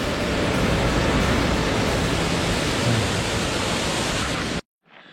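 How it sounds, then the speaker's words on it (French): The waterfalls of Villers on the Tour du Mont Blanc give a steady, loud, hissing rush of falling water that holds constant for several seconds before cutting off suddenly. "Les cascades de Villers."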